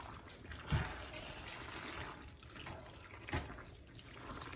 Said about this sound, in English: Just let that simmer and all those juices.